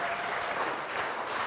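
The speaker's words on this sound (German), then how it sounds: "ihr dürft ihn mit einem kräftigen Applaus begrüßen" An audience applauds to welcome a guest to the stage at a talk event, with dense, steady clapping throughout the short burst.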